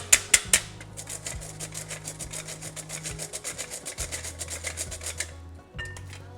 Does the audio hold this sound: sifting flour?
yes